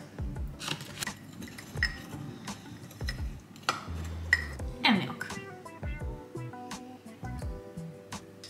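A spoon stirs overnight oats after a scoop of protein powder is added, making a run of light clinks and taps against the container with softer scraping between them.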